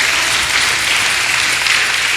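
Dense, steady clapping from a church congregation at a healing service fills the whole stretch, loud and close with no break or speech over it.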